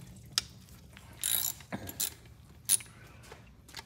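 A ratchet works on the bolts of a Ford-o-Matic transmission during disassembly, giving short, quiet clicking bursts with small metallic clinks in between.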